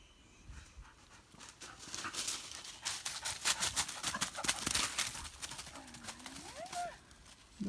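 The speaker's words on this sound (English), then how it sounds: "Dog is nuts." A dog pants rapidly and loudly close by on a walk through the woods while hunting morels, a quick rhythmic run of breaths, with a brief whine near the end.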